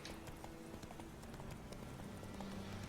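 Roach, a horse ridden in The Witcher 3: Wild Hunt, gallops with a steady clip-clop of hooves over a continuous outdoor game ambience, moderately close and fairly quiet, with no talking.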